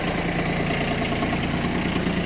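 A Kubota Japanese mini tractor engine idles steadily up close, a continuous even rumble with no change in pace and no voices.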